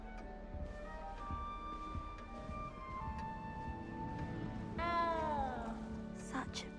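A cat meows in the video game Hogwarts Legacy, one clear rising-and-falling call near the end over a steady music and ambience bed.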